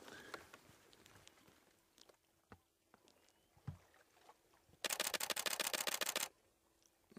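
Camera shutter firing a rapid continuous burst of many clicks lasting over a second during a sunrise safari drive, near and sharp, after quieter outdoor rustling and scattered knocks.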